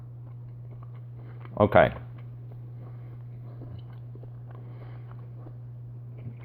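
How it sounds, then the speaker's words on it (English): One crunchy bite into a plant-based sausage, a short close burst of crunching and chewing over a steady low electrical hum, with a brief spoken word nearby. "I'm going to take a bite right now."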